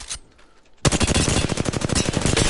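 Gunfire in a video game shooter: a single shot, a short lull, then a loud rapid burst of automatic fire that keeps up steadily to the end.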